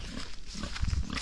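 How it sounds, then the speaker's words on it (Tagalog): Short grunting oinks from a pig near a farm footpath by rice paddies, a few low rough bursts clustered together over steady outdoor background noise. "Baboy."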